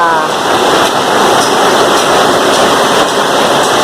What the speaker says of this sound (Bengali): বৃষ্টি দিচ্ছে রে বাবা